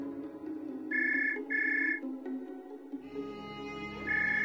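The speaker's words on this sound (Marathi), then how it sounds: "हा फोन उचलायचा नाहीये" A mobile phone ringtone sounds in repeated short bursts, loud and close, with a quiet gap before another burst starts near the end over a low background hum.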